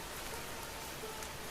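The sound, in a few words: rain falling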